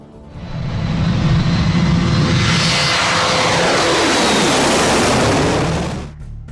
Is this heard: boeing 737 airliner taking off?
yes